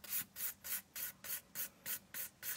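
Filing and bevelling a CND PlexiGel nail, a steady run of about eleven rhythmic rasping strokes, close and fairly quiet, with no talking.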